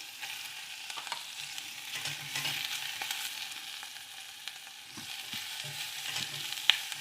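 Sliced leeks and fennel frying in a pan for a seafood gazpacho, a steady soft sizzle with occasional stirring scrapes, close and moderately loud with no voices.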